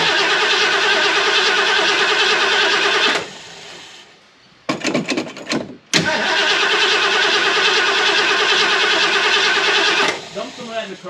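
A 351C V8 in a Mercury Capri cranks and turns over, then runs loud and steady, drops out briefly amid sputtering attempts, and catches again with a sustained rough engine roar, with a voice speaking nearby.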